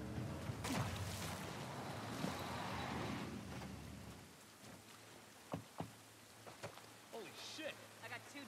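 Rain and distant thunder in the video game The Last of Us Part 1 on PS5, a dense rushing downpour that drops away midway, leaving scattered drips and soft thumps.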